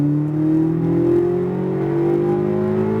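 A Corvette Z06 at full throttle on a race track gives a sustained, loud engine drone. The pitch climbs steadily as it accelerates, heard from inside the car with no talk.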